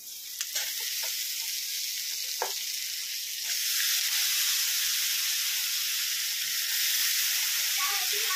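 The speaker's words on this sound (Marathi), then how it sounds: "तर आपण आता त्यामध्ये कापलेला बटाटा टाकून घेणार आहोत।" Cut potatoes go into a pan of sautéed onion, producing a loud, close, continuous sizzle and hiss with a few stirring scrapes; the frying grows slightly louder partway through.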